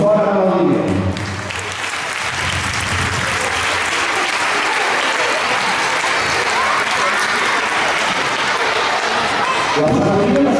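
Loud, sustained applause fills the hall from a dance event audience, with a speaking voice briefly at the start and end.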